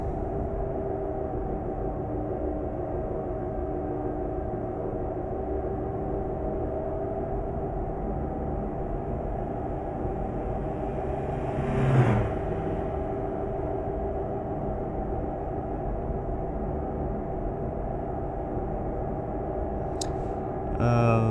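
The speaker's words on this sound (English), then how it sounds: "actually I'm driving with a Scania in the Euro Truck Simulator." A Scania truck drives in Euro Truck Simulator 2, giving a steady, low, droning engine hum that holds evenly throughout with a brief swell midway and a short click near the end.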